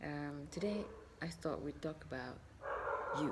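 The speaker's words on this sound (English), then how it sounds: "Oh, can you hear that? That's my dog" A dog barks and yips repeatedly in short bursts, fairly close, while someone speaks over it.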